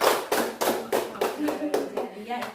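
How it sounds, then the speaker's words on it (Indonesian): Classroom group clapping in a rhythmic patterned beat, about eight sharp synchronized claps in quick succession, close and fairly loud. "Tepuk tangan dulu."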